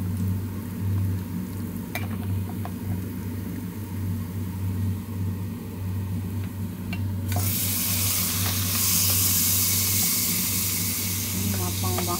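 Beef fries in a pan with browned onions and spices, a constant close sizzle and scraping as it is stirred, with a steady low hum underneath and a brighter surge of hiss partway through.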